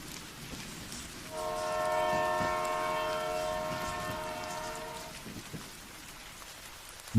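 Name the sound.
train arriving and stopping at a station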